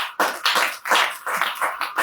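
Church congregation clapping during Sunday worship, loud rhythmic claps in a steady beat, roughly two to three per second, with no voices over them.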